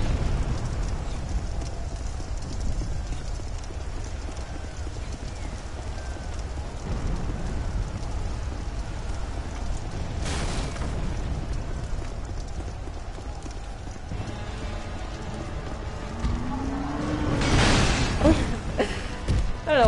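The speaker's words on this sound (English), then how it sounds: "Oh, wait, fire's coming." Fire attack in the video game Dark Souls II, a dense rumbling game soundscape that builds into a loud whooshing burst near the end, with a voice talking faintly underneath.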